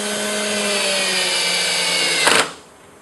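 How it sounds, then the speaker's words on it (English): A power drill fitted with a 4-in-1 bit drives a screw into a ball-bearing drawer runner, a steady whirring motor tone held close and loud for about two seconds before a brief louder burst as the screw seats, then stops. "I'm actually using the 4-in-1 bit, so I can demonstrate the ease at which we can center the screws"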